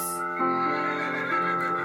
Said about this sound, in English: Fiona the horse